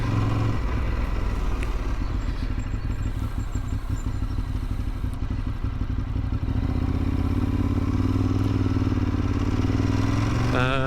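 A Ducati 848 motorcycle engine runs close by with a steady, loud, throbbing drone that rises briefly in revs right at the end, with no voices present.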